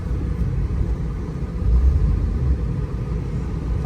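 A 1980-97 Ford Bronco or F-series truck engine rumbles low and steady while backing up, swelling slightly midway, close with no voices.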